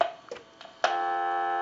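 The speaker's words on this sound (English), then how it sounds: "So this will give us dial tone" A Spirit of St. Louis telephone line's steady dial tone starts up after a few soft clicks and button presses on the old phone being repaired, a sustained, even tone that holds to the end.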